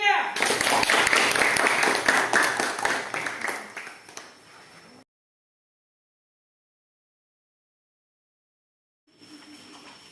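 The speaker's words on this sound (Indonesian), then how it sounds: "Beri aplaus kepada kelompok 3" A classroom of students gives group 3 a round of applause: dense, close clapping for about four seconds that thins and fades, then silence before faint room sound returns.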